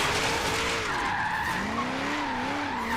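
Tires of a Subaru BRZ drift car in Forza Horizon 3 screech in a long, loud, continuous skid around a big roundabout, the pitch wavering and sliding up and down with steady engine roar underneath.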